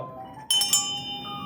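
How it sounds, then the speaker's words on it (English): A small decorative bell rings in a store, one bright clinking strike followed by a quick second tap, with a high, glassy tone that lingers briefly. "Small bell."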